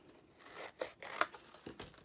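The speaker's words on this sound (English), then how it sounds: "we're gonna just trim the corners like so" Scissors snipping the corners off scored paper for a handmade mini album: a few close, crisp cuts with light paper rustling and crinkling between them, heard alone without talk.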